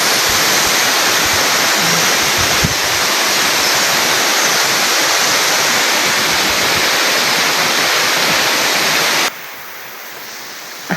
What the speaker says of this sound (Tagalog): At ito yung unang waterfalls nga naabutan namin.